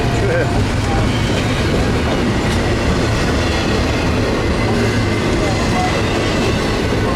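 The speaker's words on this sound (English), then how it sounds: "You know, you can jump on the train, that's how slow it's going." A slow-moving freight train rolls past close by at Fullerton, a continuous loud rumble and grinding of wheels on rail with no break, while voices talk faintly beneath the noise.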